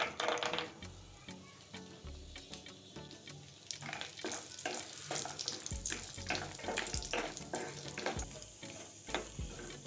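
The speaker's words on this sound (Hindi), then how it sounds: "काजू को फ्राई करने के लिए घी गर्म कर लिया है। अब इसमें हम काजू डाल देंगे।" Cashews sizzle in hot ghee in a pan, a steady crackling fry with occasional stirring clinks and scrapes, moderately quiet and close.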